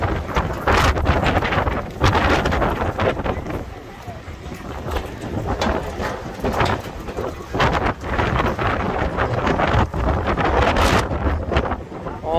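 Strong gusty wind buffets the microphone on a beachside street of shops and outdoor tables, roaring loudly and steadily throughout with brief lulls.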